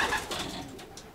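Racing pigeons coo softly in a brief, faint burst of murmuring bird calls with no voices present.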